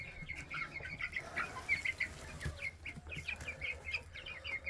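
Rhode Island Red chickens in a big farm coop give repeated soft clucks and short calls in an irregular rhythm, with occasional wing rustling, fairly close and without speech.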